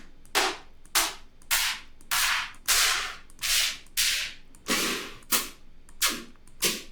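A sequence of about ten sharp, bright tear-out bass mid-layer hits from a sample pack, each a crisp cracking burst with a short noisy tail, spaced evenly and played alone with no talking.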